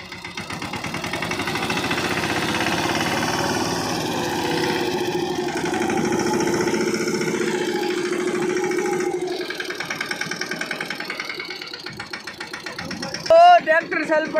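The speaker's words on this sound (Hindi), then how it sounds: "ट्रैक्टर चल पड़ा" A Yuvraj 215 NXT tractor engine, pulling an overloaded trolley stuck in sand, chugs steadily with a rough mechanical rhythm while people talk over it, ending in a few sharp clunks.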